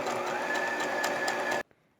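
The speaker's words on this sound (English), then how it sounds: "we're just going to stick these in the machine and sew it 1/4 inch" A sewing machine stitches quilt pieces at a quarter-inch seam for a crumb quilt in a steady, fast, close mechanical whir for about a second and a half, then stops abruptly into near silence.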